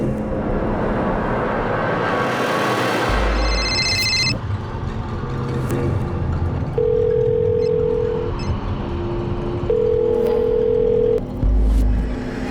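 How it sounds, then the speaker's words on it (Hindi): A telephone call goes unanswered during a quiet night at home, with a repeated steady ringback tone sounding in long even pulses over a low background and music. "मैं तेरे अब्बू को कब से फोन लगा रही हूँ, फोन नहीं उठा रहे"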